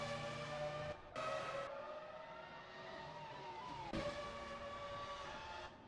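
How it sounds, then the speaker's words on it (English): Formula race cars in a racing video game at Magny-Cours roar with high, sustained engine tones that shift pitch as they pass, heard loud and close with no talking. "Just the pure engine roar is just sublime."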